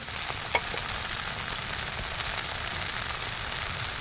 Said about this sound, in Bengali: এবার দিয়ে দেব বেটে রাখা টমেটো